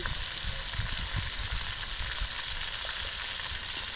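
Cauliflower and paneer fry with salt and turmeric in hot oil, village style, giving a steady, dense sizzle that stays loud and close throughout, with occasional faint stirring and no talking.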